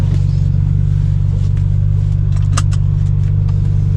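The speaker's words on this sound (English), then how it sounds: "today I'm in my buddy's twin turbo" Twin-turbo BMW 335i, tuned with multiple engine maps, idling or cruising with a steady low drone heard from inside the car, a few faint clicks and rattles on top, no talk.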